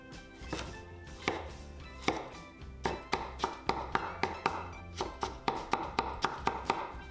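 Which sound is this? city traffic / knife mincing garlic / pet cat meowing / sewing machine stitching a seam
knife mincing garlic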